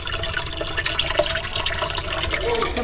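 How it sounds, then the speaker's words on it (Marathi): Spring water flows steadily at the Ganga tank in Rajapur, a close, continuous gushing and splashing with no talking. "मूळ गंगा अजून आहे बऱ्यापैकी प्रवाह आहे"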